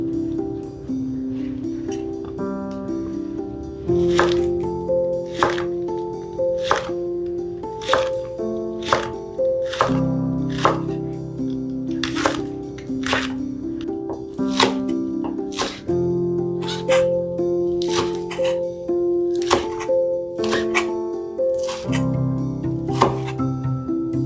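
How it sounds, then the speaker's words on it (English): A knife chopping an onion on a cutting board for picadillo, a steady run of crisp, close knocks repeating about once a second with juicy crunches between them and no talk. "So now I'm gonna cut the onion."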